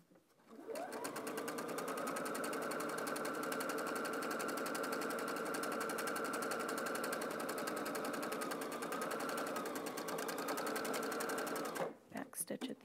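A sewing machine stitching a Christmas stocking runs in one long, steady rapid hum from start to near the end, then stops briefly and gives a short burst of stitches, close and clear.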